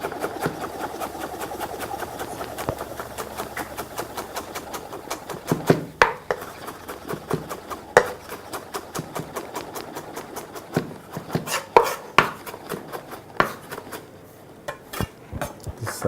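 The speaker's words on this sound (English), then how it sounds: "This is our onion. We also need to chop it." A knife chops onion finely on a board in a long stream of rapid, even taps, close and moderately loud, with a few heavier knocks scattered among the strokes; nobody talks.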